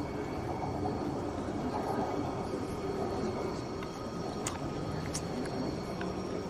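Inside a moving subway car, a low steady rumble and hum of the train fill the space, with faint metallic squeaks and ticks now and then and quiet voices in the background.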